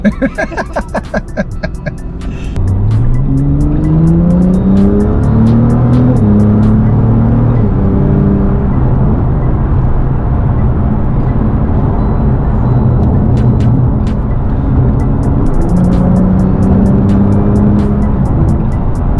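Engine clicks at idle, then a loud Nissan GT-R roars and accelerates hard, revs climbing through several gear shifts, sustained and close.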